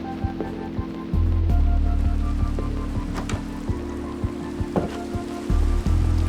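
Rain in the Minecraft video game, a steady patter of falling rain under soft repeated tapping and a low droning hum, moderately loud and continuous, no talk.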